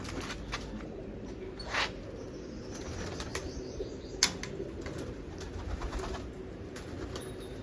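Soft pigeon cooing mixes with a few wing flaps and chirps against steady outdoor background noise at a village pigeon-flying competition in Amrala; no one speaks.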